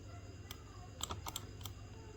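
Typing on a computer keyboard, a handful of quick, faint key clicks in an irregular rhythm over a quiet room.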